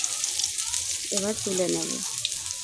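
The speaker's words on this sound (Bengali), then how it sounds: "পটলগুলো বেশ লাল লাল করে ভেজে নেব।" Pointed gourd pieces fry in hot oil in a kadai, giving a steady, soft sizzle and crackle throughout, with a short spoken remark in the middle.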